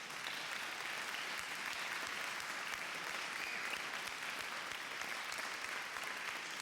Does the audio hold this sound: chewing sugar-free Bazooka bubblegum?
no